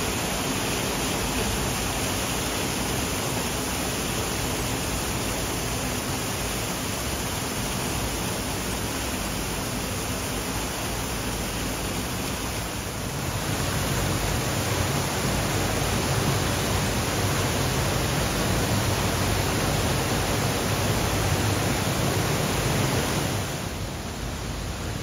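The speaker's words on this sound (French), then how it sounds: "On arrive vers la cascade." Waterfall at the end of a forest gorge trail, a steady broadband rush of falling water that swells louder midway through and continues with no voices over it.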